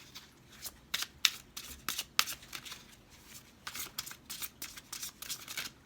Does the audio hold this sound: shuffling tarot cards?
yes